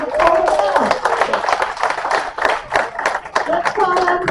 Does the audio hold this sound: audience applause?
yes